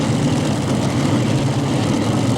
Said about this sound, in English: They're running 6 JP1 Hemi engines, 500 cubic inch each